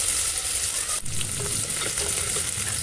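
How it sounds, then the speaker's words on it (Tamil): Green chillies and onions sauté in oil over medium heat, a steady close hiss and crackle running through the whole stretch with a brief scrape of stirring near the middle. "பச்சை மிளகா வெங்காயம் இரண்டையும் போட்டு எண்ணெயில் நல்லா வதக்கணும்"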